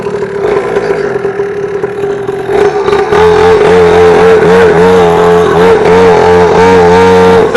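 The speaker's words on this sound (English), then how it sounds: "We're gonna rip the block up on this new 50cc 4-stroke pit bike." An Xpro 50cc mini pit bike engine idles, then revs hard in loud, buzzing repeated bursts, heard close and alone.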